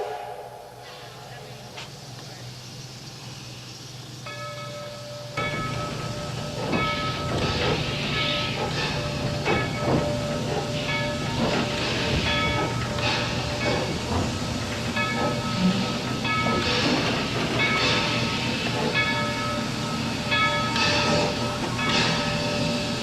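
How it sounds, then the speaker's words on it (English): An oil-fired locomotive on the Eureka Springs and North Arkansas Railway chugs and hisses steadily nearby as it heads for the turntable, with metallic clanks and squeals over a continuous mechanical rumble. "Now full of oil, the locomotive will head for the turntable."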